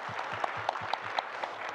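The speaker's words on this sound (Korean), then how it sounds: "우리 김동정 변호사님께 여기 안 계십니다만 박수 한번 보내주시면 어떻겠습니까?" Brief, thin applause from a small audience at an academic society's opening ceremony, a few scattered claps with distinct louder hits, fairly quiet and short.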